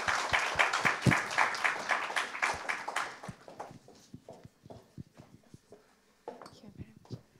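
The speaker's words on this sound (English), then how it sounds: "Round of applause." An audience at a human rights day event claps for someone coming up on stage, a fairly loud burst of many hands that thins out after a few seconds into scattered individual claps.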